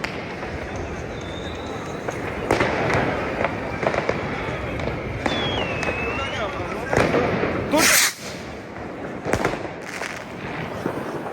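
New Year fireworks exploding over Berlin, a dense, continuous crackle of bursts and pops with a few whistling rockets streaking up, loud and close, with people talking in the crowd.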